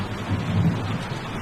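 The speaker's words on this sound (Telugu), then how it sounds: "వర్షం భయంకరంగా పడుతుంది." Heavy rain with thunder in a movie scene: a low, rumbling roll of thunder over a dense wash of rainfall, loud and close for a brief moment.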